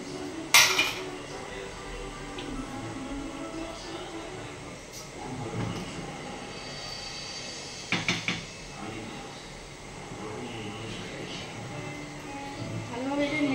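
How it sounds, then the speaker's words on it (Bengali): A spatula scrapes and clinks against a cooking pot while basanti pulao is stirred, with intermittent metallic knocks and a few sharper clatters under a speaking voice. "ভালোভাবে এটা নেড়ে নিলাম, একটু ফোটার জন্য ওয়েট করছি"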